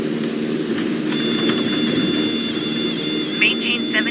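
A light airplane in a flight simulator game climbs after takeoff, its engine a constant loud drone with a thin steady whine, and brief chirps near the end.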